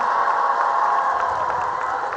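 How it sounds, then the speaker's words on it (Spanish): Sustained audience applause and cheering fills a hall in Guadalupe Victoria, Durango, welcoming Mexico's first woman president at a public event; a dense, steady wash of clapping with no voices on top. "les pido un fuerte aplauso para la primer presidenta mujer en nuestro país"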